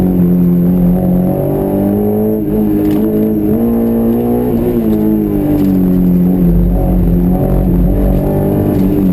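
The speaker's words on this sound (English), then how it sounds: "I'm kind of just having fun now, kicking the car sideways through the slalom." Honda S2000 kicked sideways through a wet autocross slalom in the rain, its engine loud and close, revs rising and falling in steady harmonic sweeps as the car weaves, with no talk.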